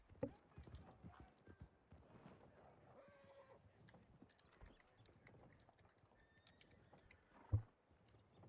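Horse hooves clip-clop past in a western role-play video game, a quick run of hoofbeats rising and fading with one sharp louder thud near the end, while voices murmur faintly underneath.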